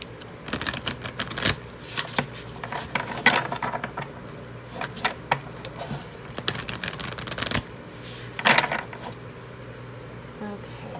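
A deck of positivity cards is shuffled by hand, producing repeated crisp riffling and flicking bursts in short irregular runs, close and fairly quiet, with a few soft handling clicks between.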